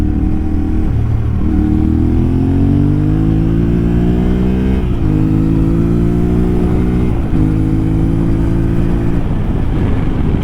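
A 2024 Yamaha Ténéré 700 A2 motorcycle runs steadily while being ridden, its engine droning close and loud with gentle pitch rises as it pulls through gears, including a brief dip around the middle, with no talking.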